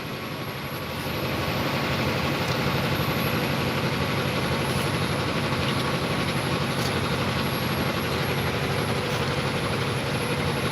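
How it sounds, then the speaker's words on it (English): A train rolls along the railway track as a steady, loud low rumble and mechanical roar, holding constant after a brief rise in the first second, with no voices over it. "Oh, there's another train."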